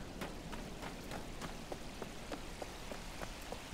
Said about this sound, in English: Rain, like impending rain.